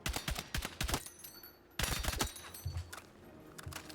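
A long-range gun in Battlefield 6 fires from the hip in rapid close bursts. Loud cracking shots come in quick strings, break off, then resume with a second volley, and softer mechanical clicks follow.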